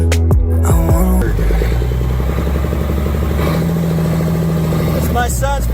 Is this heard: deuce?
yes